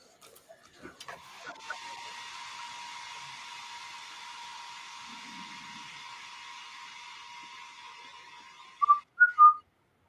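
A person makes a weak, airy attempt at whistling, a long breathy hiss with faint pitched tones lasting several seconds, followed by a few short, brighter whistled chirps at the end.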